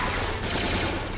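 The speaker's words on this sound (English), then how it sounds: "Those are grenades." Grenade explosions in Star Wars: Jedi Outcast, a dense, loud, continuous roar of blasts and crackling debris filling the whole brief moment with no gaps.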